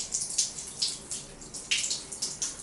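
Hot shower water splashes and patters in uneven bursts close by, rinsing a scalp and hitting a surface.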